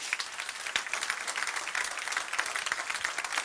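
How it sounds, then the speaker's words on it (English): Audience applause from a crowd at a marketing seminar, a dense steady patter of many hands clapping throughout, fairly loud and continuous. "Give him a round of applause"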